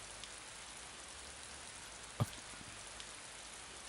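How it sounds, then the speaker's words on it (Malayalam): Heavy rain pours down as a continuous, even hiss of falling water, with one brief louder knock partway through. "നല്ല മഴയല്ലേ?"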